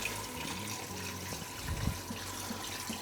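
Tap water runs steadily into a pot for chicken stock, a continuous close splashing pour with no talk.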